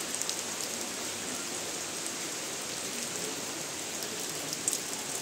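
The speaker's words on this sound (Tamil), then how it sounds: "மழை பெய்யுறது தெரியுதா?" Steady rain falls on a Sunday, a dense even patter of drops on surfaces, nearby and unbroken, with no voices.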